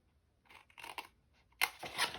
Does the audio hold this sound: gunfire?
no